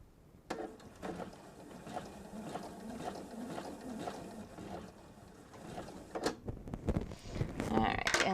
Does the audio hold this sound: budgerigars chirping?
no